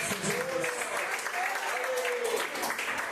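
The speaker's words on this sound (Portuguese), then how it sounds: "Bate as palmas bem alegres." A church congregation clapping hands joyfully, a lively, steady patter of many hands with voices calling out over and under the clapping.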